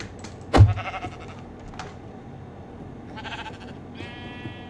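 A sheep in a video game gives a loud, close bleat near the start, followed by fainter game sounds and a couple of softer bleating calls later, with no talking.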